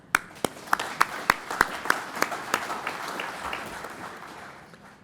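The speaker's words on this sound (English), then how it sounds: "That deserves a clap." Scattered audience applause at a company's annual shareholders' meeting: a few sharp, close claps stand out over a softer spread of clapping, which fades gradually over several seconds.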